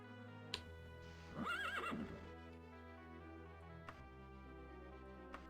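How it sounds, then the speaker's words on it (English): A horse in the DOS video game The Elder Scrolls: Daggerfall gives one loud rising-and-falling whinny in the middle, over a steady low game hum with a few sharp clicks before and after. "the horse noises are annoying as shit, but it does make me go way faster"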